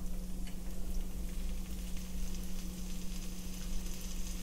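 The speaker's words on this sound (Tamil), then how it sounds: "பாருங்கள், நல்லா வெங்காயம் வதங்குது" Lengthwise-sliced onion sautés in hot oil in a pan for vegetable rice, giving a steady close sizzle with faint ticking crackles throughout and a low background hum.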